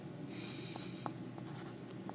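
Numbers such as decimals being written by hand on paper, a soft scratchy pen or pencil stroke sequence with short taps and scrapes, close and quiet over a steady room hum.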